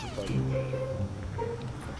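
A cat meows a couple of times, close and moderately loud, with a tonal, sliding wail over a low background hum.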